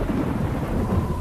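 A heavy thunderstorm with low rumbling thunder and driving rain pours down steadily, loud and close with no pauses.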